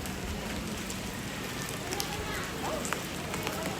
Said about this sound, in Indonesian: Tapi hujan terus.